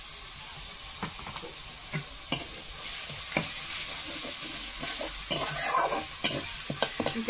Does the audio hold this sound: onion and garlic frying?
yes